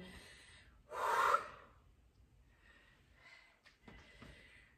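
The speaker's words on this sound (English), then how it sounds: "Inhale as we go up, exhale as we go down." A single loud, sharp breath drawn in close to the mic during a dumbbell exercise, followed by quieter, softer breathing, with no talk over it.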